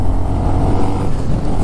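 A 2022 Honda Monkey 125 rides along in fifth gear, its small engine giving a steady, low, continuous drone up close, mixed with road and wind rumble and no talk.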